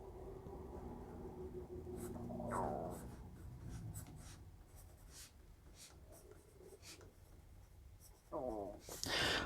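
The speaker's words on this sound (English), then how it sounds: "Let's see how this pencil does with the blunt factory point on it." Kita-Boshi 10B pencil, a very soft dark graphite pencil with a blunt factory point, scratching and rubbing across paper in uneven strokes, with a voice talking over parts of it.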